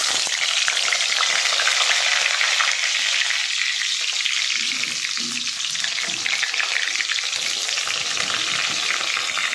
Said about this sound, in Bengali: আগে বেগুনটা ভাজা করে নিই